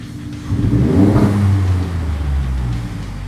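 A 2010–2016 Ford F-150 gas engine revs up briefly from idle and settles back, a close, fairly loud rising engine roar heard alone.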